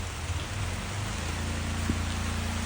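Steady rain falls outdoors near a patch of forest, a continuous broadband hiss with a low rumble beneath it, at moderate level and with no one talking.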